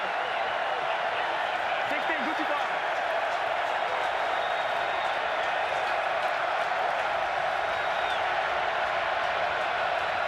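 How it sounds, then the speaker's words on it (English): Big football stadium crowd at a 2023 XFL game between the DC Defenders and St. Louis BattleHawks roars steadily, a dense, loud and unbroken wash of cheering and noise that lasts throughout with no break. "Man, this crowd is something special."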